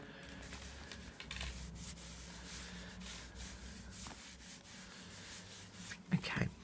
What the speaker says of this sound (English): I'm just going to rub it quickly with my finger.